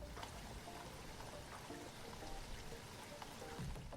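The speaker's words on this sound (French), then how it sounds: "Eh oui, c'est la pluie." Rain falls steadily in a dense, even patter with soft splashes and trickling, constant in level throughout with no voices.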